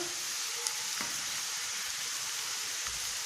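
Onions frying in a pan for an English-style pumpkin stew, a steady soft sizzle throughout with a few faint clicks, alone and without talk.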